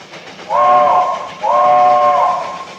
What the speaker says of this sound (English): Say, would you like to blow the whistle?